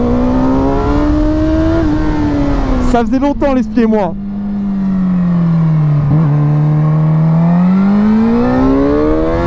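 A motorcycle with its stock exhaust roars close by, the engine note rising and falling through quick revs and a long sustained pull, with someone talking over it.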